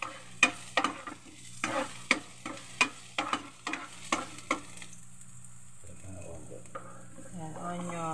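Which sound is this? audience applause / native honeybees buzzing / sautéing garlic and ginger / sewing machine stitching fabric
sautéing garlic and ginger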